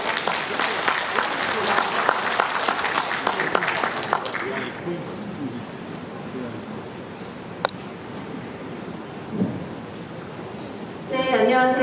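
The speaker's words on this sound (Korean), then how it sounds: "큰 박수로 맞이해 주시기 바랍니다." Audience applause at a climate-crisis lecture in Pocheon welcoming a lawyer to the stage, a loud burst of clapping from many hands that thins out midway, leaving a quieter room with a few scattered sounds and a brief noise at the end.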